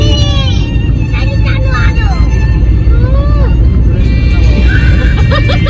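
A car drives in 4th gear, its engine and road rumble loud and continuous while wind buffets the microphone. People talk over the noise the whole time.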